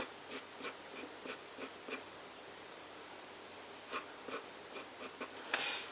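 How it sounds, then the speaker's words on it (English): Pencil drawing lines on paper, heard as a series of short, rhythmic scratching strokes, each a quick swipe, close and quiet, with a pause partway through, then more strokes. "Then you want to draw a horizontal line, a vertical line, cutting that circle in half."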